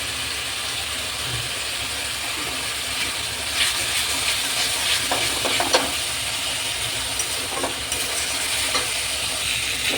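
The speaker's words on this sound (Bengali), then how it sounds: "এবার মশলাটাকে আমি সুন্দর করে কষিয়ে নেব।" Spice paste with tomato sauce stir-fried in a pan for a chickpea and pea curry with goat fat, giving a steady close sizzle with scattered scraping and stirring clicks throughout, no talking.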